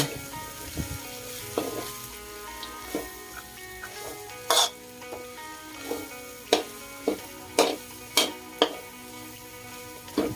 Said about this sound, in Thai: นำข้าวโพดที่ฝานไว้ใส่ลงไปค่ะ หลังจากนั้นก็ผัดข้าวโพดกับพริกแกงไปเรื่อย ๆ